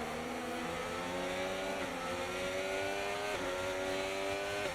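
Modded F1 car engine in a racing video game, a high-pitched screaming note rising steadily through gears with short dips at each upshift, loud and continuous with no talk.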